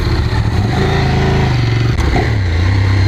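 A Ducati SF848 motorcycle engine revs up and climbs in pitch, loud and close, running continuously with a throaty rumble.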